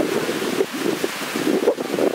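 Wind gusting steadily outdoors, a continuous rushing roar with buffeting on the microphone, no voices.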